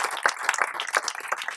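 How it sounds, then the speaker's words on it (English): An audience applauds at a summit for Jeff Smith of Smule, with steady, crisp clapping from a crowd throughout the short burst, fairly close and even. "Can we give a big round of applause for Jeff"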